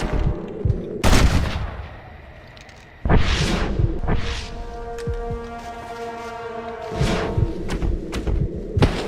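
Rapid bursts of Gatling gun fire in the Western video game Red Dead Redemption, loud booming volleys with heavy low thumps and ringing tails, repeating in clusters across the scene with no voices.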